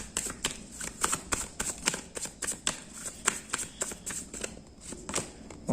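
Tarot cards being shuffled and drawn during a reading, a steady run of close, soft papery flicks and snaps repeating quickly without pause, fairly quiet, with no voices.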